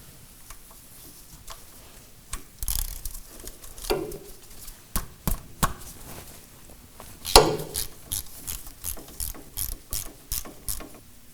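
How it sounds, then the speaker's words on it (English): Ratchet wrench loosening the 15 mm oil drain plug on a 2009-2014 Ford F-150, heard close up as bursts of quick metallic clicking in repeated strokes, with short pauses between pulls. "remove the drain plug with a 15 millimeter"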